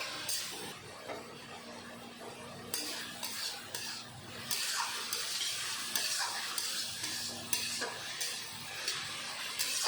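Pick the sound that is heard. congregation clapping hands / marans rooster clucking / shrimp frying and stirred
shrimp frying and stirred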